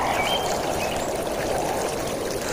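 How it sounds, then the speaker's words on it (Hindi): Gentle waves of pond water lapping against the shore of a pond in a cartoon: a continuous soft watery wash, steady and close, with no voices. "ठंडी हवा के साथ पानी की लहरें धीरे धीरे किनारे से टकरा रही थी"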